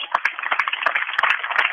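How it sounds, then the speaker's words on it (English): Crowd applause at a high school baseball semifinal between North Linn and Bellevue Marquette, honoring the opposing catcher; a steady wash of clapping with a few sharper claps standing out, moderately loud and close, with no talk over it. "nice round of applause for the catcher, Fiftner"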